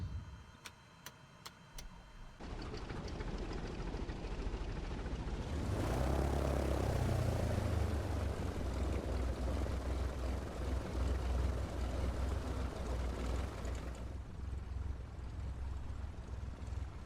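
Aircraft engine spooling up during pushback in Microsoft Flight Simulator 2020, a few sharp clicks followed by a steady rising roar that swells and holds, then eases slightly near the end.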